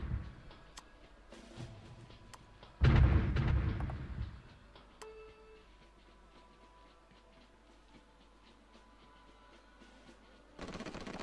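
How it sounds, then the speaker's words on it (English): Artillery barrages in the strategy game Supreme Ruler Ultimate, a heavy booming burst with rattling follow-up fire and scattered small clicks, moderately distant over a quiet background. "move in the artillery to be able to help them"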